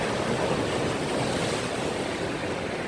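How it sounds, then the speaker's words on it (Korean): Ocean waves surge onto the shore at Haeundae beach, a loud, continuous rushing wash with wind noise and no talk. "파도가 오늘 날 격하게 환영해 주네요"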